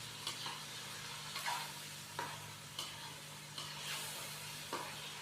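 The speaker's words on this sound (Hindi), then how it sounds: "और यहाँ पे हम इसको मज़ीद 4 से 5 मिनट अच्छी तरह भून लेंगे ताकि चिकन की मज़ीद अच्छी तरह भुनाई हो जाए" Chicken with spices sizzling softly in a pot for pulao, a steady low hiss punctuated by periodic scrapes of a spoon stirring, close and fairly quiet.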